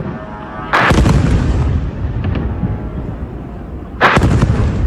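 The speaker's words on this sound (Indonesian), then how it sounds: "Dua pesawat tanpa awak atau drone terlihat terjatuh menghantam tanah dan menimbulkan ledakan besar" Drones crash into the ground in Romania and explode, heard as a sustained heavy rumble with two sharp, loud blasts, one near the start and another toward the end.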